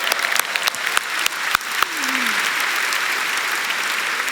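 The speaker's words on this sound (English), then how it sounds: "round of applause, absolutely" A Canva Create event audience breaks into applause: a few sharp, separate claps at first, then a thick, even wash of clapping with a brief rising whistle or cheer, carrying on steadily to the end.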